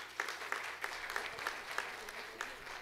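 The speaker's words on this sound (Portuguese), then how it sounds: "Uma salva de palmas," An event audience applauds steadily for about three seconds, with a dense patter of clapping and a few sharper claps standing out, heard from within a large room.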